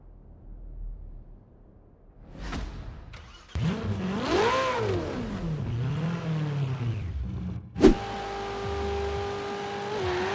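A Ferrari 488 GTB in Forza Horizon 4 fires up and revs, its engine note rising and falling in sweeping pulls, fairly loud, then a sharp click and a steady high engine drone.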